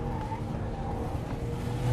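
A BMW 5 Series with all-wheel drive accelerates in sport mode, giving a steady, full engine drone heard from inside the car, with no voices present.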